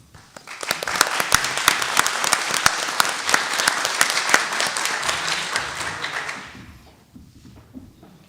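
Audience at a school district board meeting breaks into a burst of applause, dense hand clapping that swells quickly, holds for several seconds, then fades out, with faint murmuring at the end.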